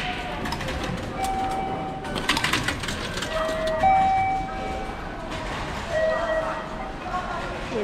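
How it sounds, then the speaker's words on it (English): A train between Aomori and Akita, Japan, rumbles steadily with rattling and clanking, brief tonal squeals and chimes rising over the noise, and voices talking underneath. "Train that we are getting on."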